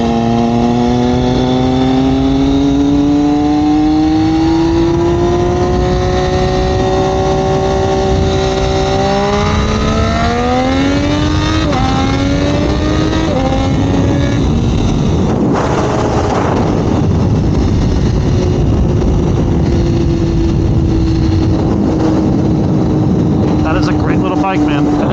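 A 2021 Triumph Daytona 765 Moto2 motorcycle on the road, its engine climbing steadily through the revs with quick upshifts, then dropping to a steadier drone, loud and close under heavy wind rush.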